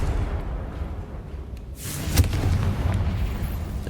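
A Confringo blasting spell in Hogwarts Legacy bursts with a sudden whooshing blast partway through, followed by a deep rumbling boom over steady game ambience.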